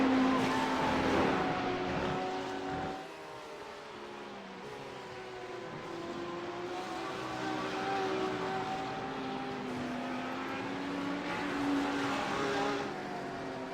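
GT3 race cars, a Porsche among them, lap the Imola circuit in a steady sustained engine roar, with several rising and falling tones of cars running together, fairly loud, no talk over it.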